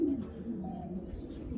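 A very large pigeon coos nearby, a single low, rolling call that is clear and close with no voices over it.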